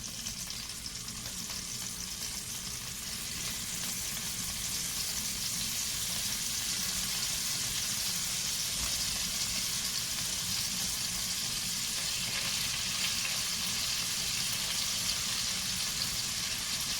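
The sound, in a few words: scallops frying and searing in a pan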